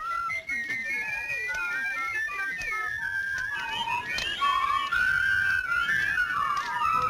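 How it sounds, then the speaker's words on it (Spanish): Whistling carries through a rural harvest setting, wavering melodic lines over a busy background of outdoor noise, with the whistled tones growing louder and steadier toward the end. "A ver, silba."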